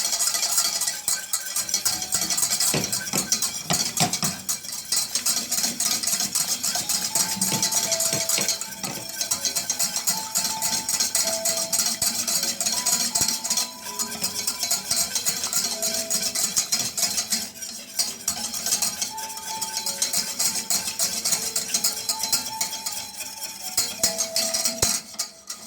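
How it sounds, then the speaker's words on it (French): A spoon scrapes and clinks steadily against a pot while stirring a thick cornstarch, butter and milk mixture for a Moroccan milk pastilla, the soft metallic strokes repeating continuously over a hissing background. "On va essayer de remuer, continuer à remuer pour que toute la maïzena soit mélangée avec"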